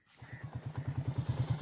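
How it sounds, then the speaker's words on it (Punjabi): A motorcycle ridden past orchards, its engine giving a low, steady putter with regular pulsing beats, close and moderately quiet, with no talking. "ਮੋਟਰਸਾਈਕਲ ਤੇ ਬੈਠਾ ਮੈਂ।"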